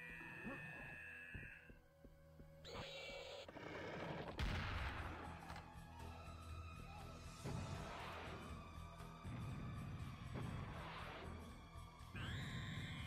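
The rocket launcher fires in Serious Sam: The First Encounter, a heavy blast bursting out amid a busy mix of game shots and rumbling effects, with further loud booms following through the stretch.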